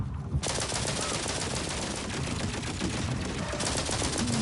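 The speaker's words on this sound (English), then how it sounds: "there's turrets helping me, I see. I was wondering where those bullets are coming from." Automated turrets pour bullets in Outer Worlds 2, a loud, unbroken rattle of rapid gunfire that starts abruptly and runs without pause, layered with other combat noise.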